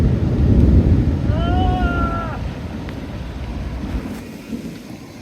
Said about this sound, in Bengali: বৃষ্টি শুরু হয়েছে।